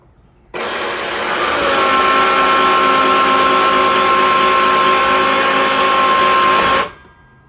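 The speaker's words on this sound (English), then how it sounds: "you want to come here to the electric winch and raise the roof" An electric winch raises the roof of a pop-up camper, a loud steady motor whine that starts abruptly, runs evenly for about six seconds and cuts off sharply, with no talking.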